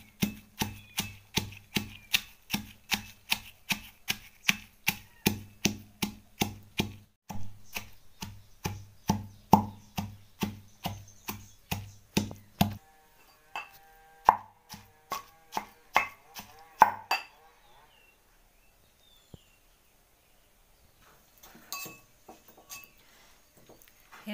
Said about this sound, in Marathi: खलबत्त्यावर आता आपण मस्त बारीक करून घेऊ त्याला.